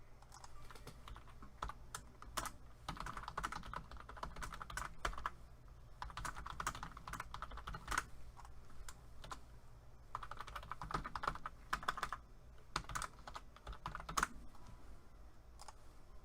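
Steady computer keyboard typing by a weather presenter during severe storm and flash flood coverage, bursts of clicking keystrokes continuing at close range for the whole stretch with brief pauses.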